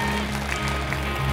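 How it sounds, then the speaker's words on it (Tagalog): A church congregation at a Sunday worship service applauds in a steady, dense wash of clapping for the whole moment, with a low sustained musical tone running underneath. "Isa pa pong malakas na palakpak para sa Panginoon."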